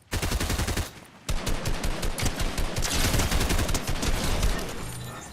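Rapid bursts of gunfire in the video game Fortnite, loud and dense, with a brief lull near one second before sustained firing resumes.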